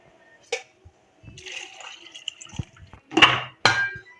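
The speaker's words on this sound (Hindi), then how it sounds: "हम इसमें तकरीबन 3 पाव जो है वो पानी शामिल कर लेते हैं" Water poured into a pot of browned brown pulao in a kitchen: a few short splashy gushes and drips with faint clinks, close by, separated by brief quiet gaps.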